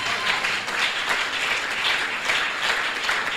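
A church congregation applauding loudly and steadily, a dense wash of clapping from many hands that holds at an even level throughout.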